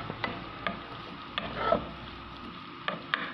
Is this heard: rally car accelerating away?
no